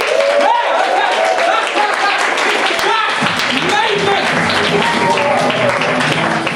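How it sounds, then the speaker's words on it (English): Comedy club audience clapping and applauding at a county comedy night, a dense, loud wash of hand claps with crowd voices and cheering mixed throughout. "you jump up, you clap, everybody else joins in"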